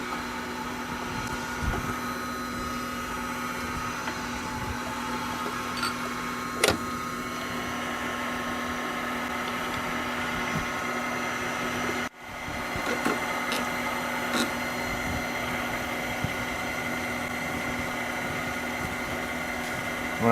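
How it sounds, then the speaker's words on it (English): A valve grinding machine set to 55 degrees grinds a valve with a continuous steady motor hum and faint grinding, broken by a couple of brief clicks and one sharp momentary dip. "When I'm grinding this, I need to keep the valve moving back and forth so that my stone wears evenly"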